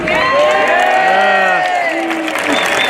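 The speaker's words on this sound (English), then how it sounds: "I'd also like to get a round of applause for all the police officers here today." A crowd at an outdoor protest march against badger culling and hunting claps and cheers loudly, with whoops and shouted voices rising over continuous applause.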